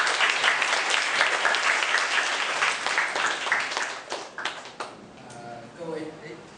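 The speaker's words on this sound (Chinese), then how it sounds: "大家先热烈掌声" Warm applause fills a lecture hall after a host calls for a welcome before a chemist's talk against Taiwan's Fourth Nuclear Power Plant, dense clapping that thins out toward the end, leaving a few scattered claps.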